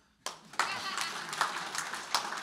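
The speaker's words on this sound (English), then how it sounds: "Applaud." Audience applause at a Star Wars original trilogy reunion panel at a fan convention, a burst of clapping that starts abruptly and stays steady, with scattered louder claps and cheers through the hall.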